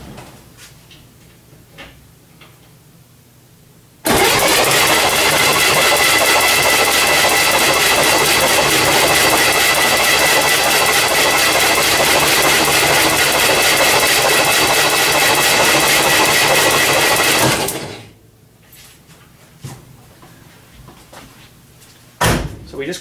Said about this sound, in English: Just crank the motor for 15 seconds